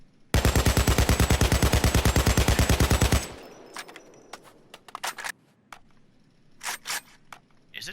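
AKM (AK.762) assault rifle fired in the video game Payday 2 as one loud, sustained full-auto burst of about three seconds with rapid even shots, followed by scattered quieter clicks and handling noises.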